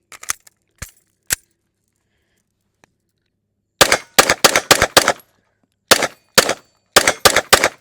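A Smith & Wesson M&P Steel pistol fires sharp, loud, close shots, first a few scattered reports, then quick strings of rapid rounds separated by short pauses, with no talking.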